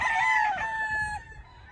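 A rooster crows loudly and close on a gamefowl farm, one clear drawn-out call that fades out after about a second.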